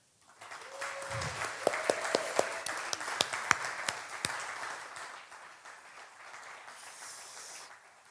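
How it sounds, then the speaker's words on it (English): Audience applause at a live comedy-style show, a practice round called for from the stage: a dense burst of clapping builds and holds for several seconds, with a few sharp louder claps and a brief voice near the start, then tapers. "Let's try the applause."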